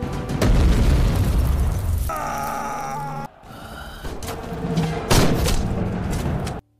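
A loud explosion blast in an Indonesian-narrated retelling of a war film, with booming, thudding bursts and dense crackling debris that keep the level high for nearly seven seconds before cutting off abruptly.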